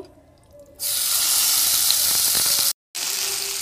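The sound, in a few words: marinated chicken frying in white oil in a wok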